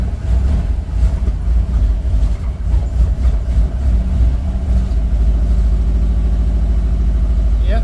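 A 1965 Dodge van engine, long parked, runs on throttle with a failing choke, a loud steady low rumble lasting throughout with some rougher surging early on.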